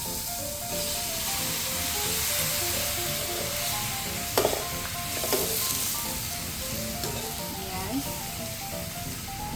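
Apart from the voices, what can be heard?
shrimp sizzling as added to red curry pan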